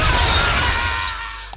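A glass bridge panel in Squid Game shatters in a loud, dense crash of breaking glass that fills the moment, then trails off into scattered debris and a brief final tinkle.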